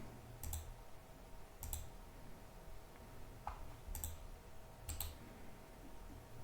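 A computer mouse gives a few faint, sharp clicks, spaced irregularly over a quiet hum, while updates are being installed on a KDE Neon desktop.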